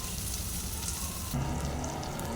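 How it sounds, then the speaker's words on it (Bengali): Eggplant pieces frying in a pan while being stirred, a steady soft sizzle with a brief scrape of movement partway through, fairly quiet and without talk. "বেগুনগুলো আবারও আমি নেড়ে ছেড়ে দিচ্ছি"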